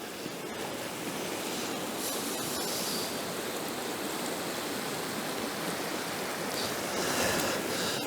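Shallow stream only a couple of inches deep runs with complex currents, a steady close rushing and gurgling wash of water that stays even and fairly loud throughout.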